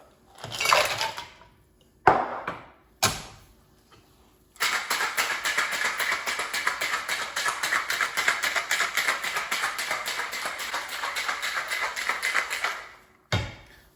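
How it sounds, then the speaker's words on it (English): A bourbon sour cocktail shaken hard with ice in a shaker, a few loose clinks and knocks, then a long fast rattling of ice for about eight seconds, ending with a final clatter. "add some ice and shake it up"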